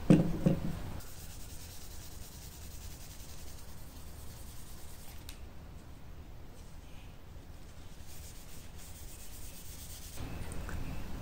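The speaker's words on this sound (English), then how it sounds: "So after a bit of buffing and polishing, then you can see there's a really nice shine to the buffalo horn." Folded tissue buffs Renaissance wax onto a buffalo horn knife handle, making a soft, continuous rubbing hiss that stays faint and steady for several seconds with no talk.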